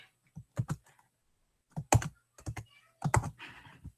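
Computer keyboard typing in short bursts of key clicks, a few quick strokes, a pause, then more clusters of clicks, close and fairly quiet with no talking.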